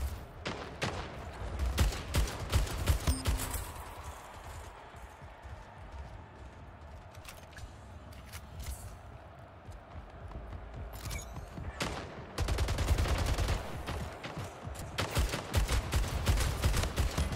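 Shots ring out in the Splitgate video game, with rapid bursts of automatic gunfire and single shots crackling near and far, thinning out in the middle and then resuming heavily toward the end.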